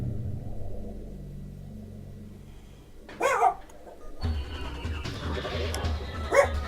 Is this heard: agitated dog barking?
yes